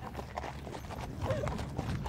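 Horse hooves clip-clop in a steady, irregular rhythm on a trail ride, with several horses moving close by under low outdoor background noise.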